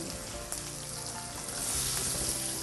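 Potatoes for dum aloo fry in hot oil with a dense, continuous sizzling hiss that swells slightly louder partway through, close and unbroken by talk.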